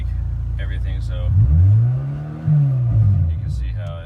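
Engine of a Honda car on a tuning setup revs up from idle to around 3,000 rpm, a rising then falling drone held for about a second, then a second rev swells again, with a person talking briefly before and after.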